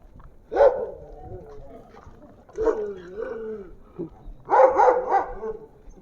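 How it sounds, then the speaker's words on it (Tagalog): A dog barks at another dog during an early morning walk, giving a few separate bursts of barking and yelps spread over several seconds, with quieter whimpering sounds in between. "Tinahol si Tommy ng aso guys."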